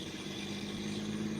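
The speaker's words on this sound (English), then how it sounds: "you can see one of the cement trucks maybe starting to back out." Cement truck engine idling and starting to back out nearby, a steady low rumble with a droning hum, fairly faint and continuous with no talk.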